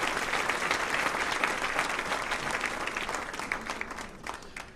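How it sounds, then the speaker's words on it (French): Audience applause at a joyful gathering, a dense patter of clapping from many hands that stays strong and gradually eases toward the end. "On les a applaudis maintenant,"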